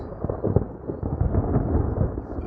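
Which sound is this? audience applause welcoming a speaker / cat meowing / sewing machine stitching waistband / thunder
thunder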